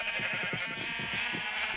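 Minecraft sheep bleating in short repeated calls, close and fairly loud over continuous game background sound, no talking.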